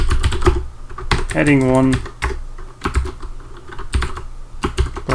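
Someone types HTML heading tags on a computer keyboard, with quick close key clicks in irregular bursts under someone talking.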